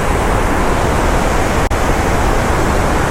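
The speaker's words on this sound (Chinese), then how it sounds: "我不知道我们康州还有这样的瀑布啊" A waterfall on a river in Connecticut roars as a loud, steady, broadband rush of falling water, close and continuous with no voices over it.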